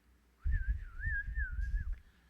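A man whistles a short wavering tune, a single clear sustained melody lasting under two seconds, alone and close, against a low rumbling background.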